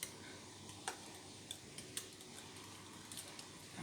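Homemade dish soap scented with lemon essential oil is stirred, giving faint, sparse clicks and light taps of a utensil against the container in an otherwise quiet room.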